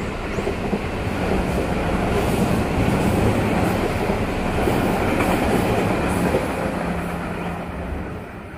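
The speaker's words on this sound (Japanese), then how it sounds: "でちょうど電車が通過するみたい。" A train passes through a small station in Osaka, a loud, steady rumble with rail clatter running throughout and fading slightly at the end; no one speaks.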